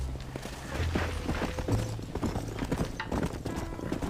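A horse's hooves beat in a fast, steady clip-clop rhythm in Red Dead Redemption while it herds cattle, close and continuous for several seconds over low game ambience.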